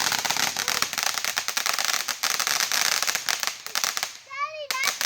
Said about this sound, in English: Mini fireworks.